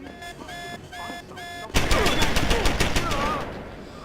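An automated turret in Deus Ex Human Revolution opens up with dense, rapid automatic fire after a stretch of tonal beeping. The gunfire continues loud and steady to the end, with talking mixed in.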